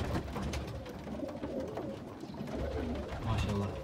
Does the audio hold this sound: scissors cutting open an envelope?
no